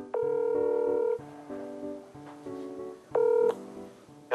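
Telephone keypad dialing tones beep in a sequence of distinct, clear, steady-pitched electronic tones, each lasting a fraction of a second to about a second, with brief gaps between them.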